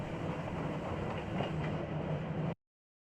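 A train from the video game Symphonic Rain rumbles along steadily, its low rolling rail noise continuous and fairly close before stopping abruptly into silence.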